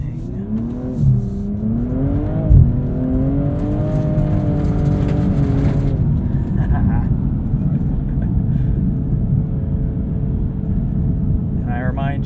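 A 2022 BMW M240i xDrive coupe drifts on ice in sport mode, its engine loud and close, revs climbing and falling in long sweeping surges before settling into a steady drone.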